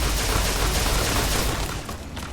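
Sustained burst of gunfire from a weapon in Fallout: New Vegas, loud and dense for about a second and a half before easing off into quieter echoing shots.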